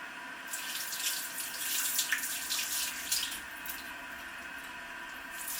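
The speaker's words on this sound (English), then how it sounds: "We need some water in the sink" Tap water pours steadily into a kitchen sink, a close hissing splash that keeps running the whole time, with light clinks and no voices.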